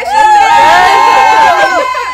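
A crowd at a dance concert cheers and screams, with loud overlapping high voices rising and sustained in a continuous close roar.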